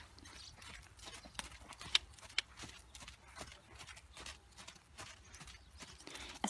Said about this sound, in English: Horses can keep up a steady trot for hours.